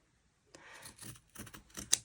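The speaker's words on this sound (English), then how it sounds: "I'm going to use my big scissors" Large scissors cut paper to make a tiny paper house, giving a few quiet, close snips and crisp clicks in an irregular sequence with a sharper snap near the end.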